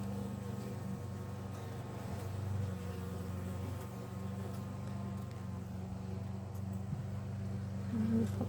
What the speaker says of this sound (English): The bees seem quite content.